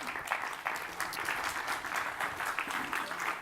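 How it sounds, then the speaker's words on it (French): A conference audience applauds panel speakers at a transport industry congress, steady close clapping throughout, fairly quiet overall. "Meige, Emmanuel Barbara et Raphaël Franklin, que vous allez applaudir pour leur donner du courage."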